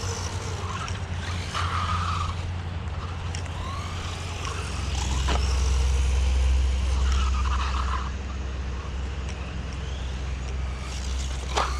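A 1/14 scale RLAARLO Kraton Sledge mini RC car drives continuously, its motor buzzing steadily, with occasional scrapes and skids as it moves around close by.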